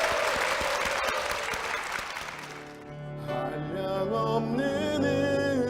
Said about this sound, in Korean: 우리 두 분께 힘찬 박수 부탁드리겠습니다